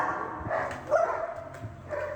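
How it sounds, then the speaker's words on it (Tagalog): Several dogs bark and yip close by in a brief noisy burst, with a few sharp barks rising over a busy household background. "Pasensya na po sa maingay dahil napakaingay dito ng mga aso namin."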